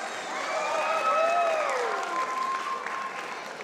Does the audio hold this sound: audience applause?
yes